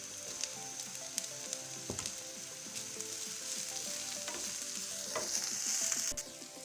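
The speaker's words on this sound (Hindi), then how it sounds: "अब इसमें ये चिकन ऐड करेंगे हम।" Chicken pieces sizzling steadily in spiced masala in a pan, a dense continuous crackle and hiss with occasional sharper pops and stirring clatter, close and without talk.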